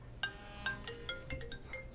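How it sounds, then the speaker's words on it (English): Phone ringtone for an incoming call: a series of short, bright electronic chimes rising in a quick melodic pattern, faint and fairly distant, with no talk. "So hold on. We're going to take this phone call."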